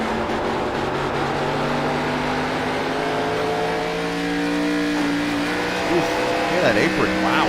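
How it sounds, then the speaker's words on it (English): Camaro, Supra and Mustang race cars circle a track, their engines droning in layered tones with rising and falling revs as cars pass, under a commentator's continuous speech. "These Camaros and the Supras and the Mustangs, they don't have that sound that you hear normally out of like the cup cars or the trucks."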